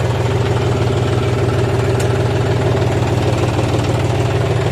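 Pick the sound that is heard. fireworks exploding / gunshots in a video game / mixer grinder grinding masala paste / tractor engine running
tractor engine running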